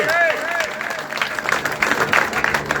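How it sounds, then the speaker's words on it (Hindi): Crowd applause at a political gathering in Haryana, scattered clapping that swells unevenly under a loud amplified voice, with a tonal whistle-like sound near the start. "तालियां भाई बहुत जोर से"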